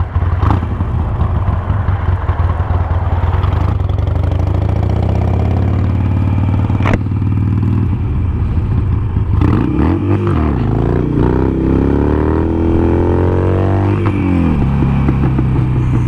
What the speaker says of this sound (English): I just love the feeling of wheelie and a Harley.